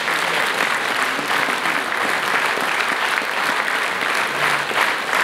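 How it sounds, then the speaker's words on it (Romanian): Audience applause at a concert event honoring a composer, a dense, steady wash of many hands clapping throughout, loud and sustained without breaks. "Să-l aplaudăm din tot."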